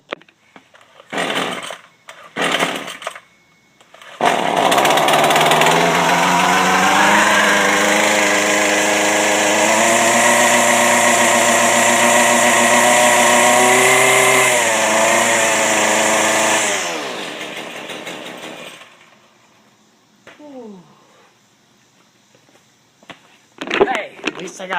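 A gas string trimmer starts after a few short failed pulls, then roars loudly at high revs for about twelve seconds before cutting out, with a few rustling handling sounds around it.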